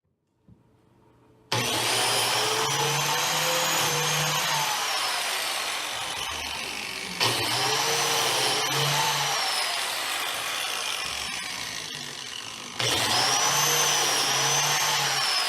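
Biscuit joiner cutting slots in wood for a breadboard-end outdoor sign, a loud continuous high-pitched motor whine and cutting roar that starts abruptly and surges in three long passes, close up and without talk.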